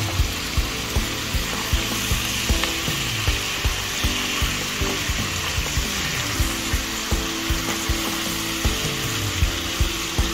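Beef frying in a pan, destined for rice cooked with beef and fresh shrimp, sizzles steadily while a utensil stirs it, tapping and scraping in a fairly regular rhythm throughout, close and loud.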